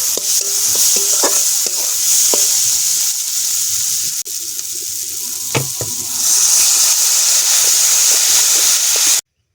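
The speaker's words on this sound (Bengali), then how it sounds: "সব মশলা ভালো করে কষানো হয়ে গেছে, দেখুন তেল ছেড়ে দিয়েছে। এবারে দিয়ে দেব জল" Water hits hot, oil-rich fried spice masala for a Bengali aila fish curry, setting off a loud, continuous close hiss and sizzle. It dips briefly midway, then surges again with faint stirring clinks.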